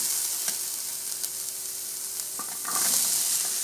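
Peanuts are added to sautéed onions and stirred in a pan for peanut sundal, giving a soft, constant frying sizzle broken by a few sharp utensil scrapes and clicks, then a louder burst of sizzling near the end.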